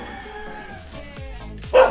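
A dog near a rental house gives a single loud bark late in the moment, over steady background noise and other faint sounds.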